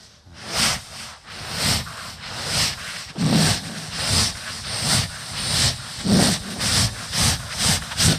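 A man imitates a train with his voice in a comedy show, making repeated rhythmic puffing and hissing bursts like a steam train, loud and steady with no other talk.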